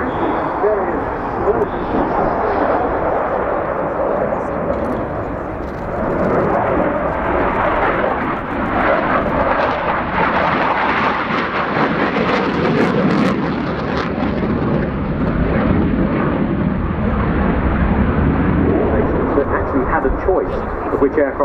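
A Romanian MiG-21 LanceR C jet fighter flies its display at RIAT 2019, giving a loud, continuous jet roar that swells and rumbles without a break for the whole stretch.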